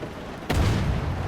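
One sharp, heavy submarine deck-gun blast in the video game UBOAT cracks out abruptly and rolls into a low rumbling echo over steady background noise of rain.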